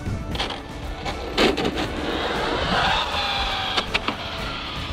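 Arrma Felony RC car making a high-speed run on an overgeared setup, a steady motor whine and tyre roar passing near with a few sharp bumps and clicks toward the end.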